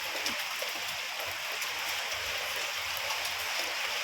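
Steady rain pours into a basin outdoors, a dense even hiss of falling water without pause, close and moderately quiet, with no voices.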